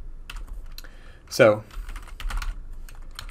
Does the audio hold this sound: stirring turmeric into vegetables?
no